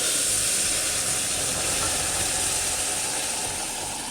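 Vegetable broth poured into a pot of toasted grits on high heat keeps up a strong, steady hiss and sizzle throughout, with no talking.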